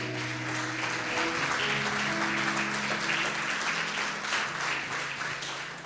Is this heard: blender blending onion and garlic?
no